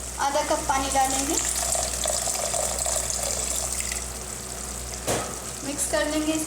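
A spiced chicken mixture sizzles steadily in a pan as it is stirred, with a brief clatter of the utensil and a constant frying hiss throughout.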